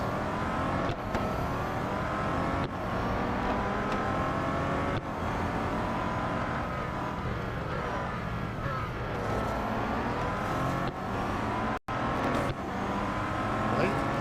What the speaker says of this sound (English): the Bentley that I'm driving won't be that good at accelerating away